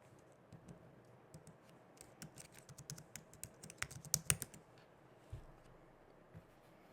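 Keys clatter on a computer keyboard in quiet, irregular bursts, building into quicker, denser clicks midway before slowing to scattered taps, close and fairly soft.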